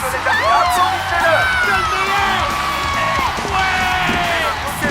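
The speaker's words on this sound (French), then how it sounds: "Applaudissez-le." A crowd roars, cheers and whoops continuously for a skier's jumps at an evening snow event, with shouts and yells throughout.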